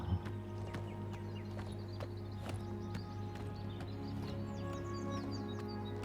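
Horse hooves clip-clop at a steady riding pace in a video game, with faint birdsong chirping over a quiet background hum.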